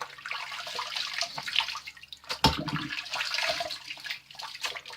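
Tap water runs steadily into a bathroom sink as someone rinses off after a wet shave with a vintage 1970 Lady Gillette razor, a continuous close splashing wash with a brief louder burst midway.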